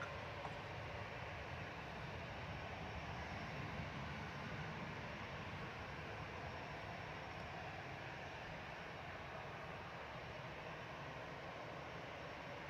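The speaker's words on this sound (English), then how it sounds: "Sun Express coming in from Dalaman, TC SMP, flight 3508." SunExpress airliner arriving from Dalaman on approach to land at Manchester Airport, a faint, steady distant engine rumble continuing evenly throughout.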